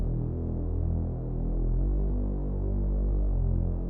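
A Serum saw bass synth with portamento of about 120–130 ms, layered with sub bass, drones in a deep, buzzy hum as its pitch slides smoothly from one note to the next, steady and alone.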